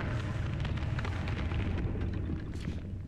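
A grenade from a grenade launcher bursts in an Xbox horror shooter, a dense rumbling blast that keeps roaring and slowly thins out, with no voices over it.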